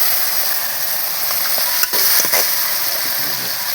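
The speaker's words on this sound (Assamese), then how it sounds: "মই লৰাই দিছোঁ" Chicken chilli with potatoes being stirred in a frying pan, with a steady loud sizzle throughout and a few scraping stir strokes near the middle.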